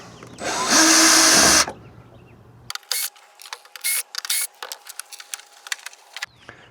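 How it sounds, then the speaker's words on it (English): A powered driver backs out T20 screws from a Ford F150 blind spot module, one long whirring burst followed by several short bursts and clicks at close range. "Remove the 4 T20 screws."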